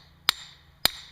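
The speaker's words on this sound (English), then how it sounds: "Go to the BFH. That's big effing hammer." Two sharp, loud metallic strikes about half a second apart as a big hammer pounds a trap stake into the ground on a trail, with no talking.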